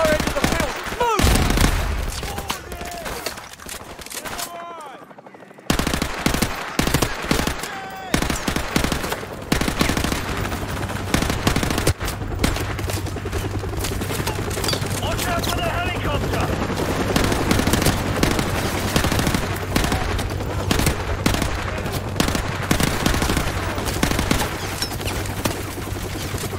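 Sustained gunfire fills a Call of Duty Modern Warfare Remastered battle on an open field, with dense machine-gun bursts and scattered rifle shots rolling on almost without pause. A short lull near the start is followed by heavy, continuous firing, and voices shout orders over it.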